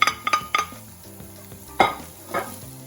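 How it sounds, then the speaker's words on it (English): Onions, chili, ginger and garlic frying in a pan, with a steady sizzle broken by several sharp stirring scrapes and clatters, close and fairly loud with no talking. "into that I'm now going to add my onions, chili and ginger, and I'm going to cook these for 3 or 4 minutes"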